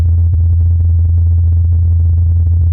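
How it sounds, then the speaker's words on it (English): A steady, low droning hum from a helicopter's spinning rotors flying on Mars, muffled and constant with a faint fluttering texture, with no voices. "This is the sound of a helicopter flying on Mars."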